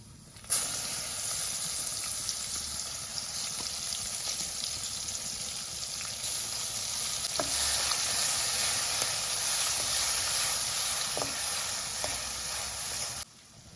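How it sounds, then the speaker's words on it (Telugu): Ground paste sizzling as it fries in hot oil with cumin seeds, chana dal and urad dal for a festival prasadam, a steady close hiss running throughout with faint crackles and no talk. "వేగిన తర్వాత మిక్సీకి వేసుకున్న పేస్ట్ వేసుకోవాలి"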